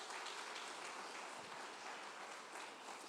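A church congregation claps in praise, a continuous, even patter of many hands heard at a distance, fairly faint and unbroken for the whole stretch.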